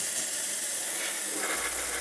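A cheap Amazon steamer used in a dental lab hisses dry steam in a continuous, loud, bright rush, a steady spray close by with no pauses.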